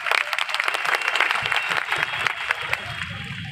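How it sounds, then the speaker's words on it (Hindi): Crowd at an outdoor political memorial gathering in a park in Rewa applauds a member of parliament arriving on stage, a dense steady patter of many hands clapping throughout, fairly loud and close. "हमारे लोकप्रिय सांसद राजमणि पटेल साहब मंच पर पधारे हैं, उनके लिए जोर से तालियां।"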